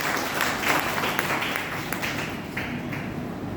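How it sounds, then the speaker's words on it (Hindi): Audience applause in a college poetry recital hall, steady clapping from a crowd lasting the whole stretch, dense and fairly even without a clear peak. "जोरदार तालियों से स्वागत कीजिए"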